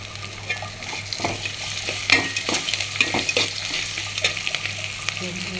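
Onion, garlic, garam masala and ginger fry in a pan with a steady, close sizzle, broken by repeated scraping stirs of a spoon against the metal.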